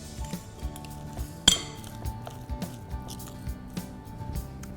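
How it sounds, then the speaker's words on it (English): Spoon stirring Gujarati handvo batter in a bowl, with light repeated clinks and soft scraping in an uneven rhythm and one sharper knock, close and fairly quiet. "Again, give this a stir."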